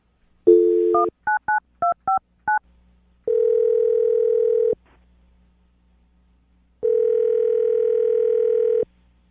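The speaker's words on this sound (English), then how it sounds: "I'm going to dial the phone number right now" A telephone number is dialed for a radio morning show call: a quick burst of touch-tone beeps, then two long ringback tones separated by a pause, clear and close.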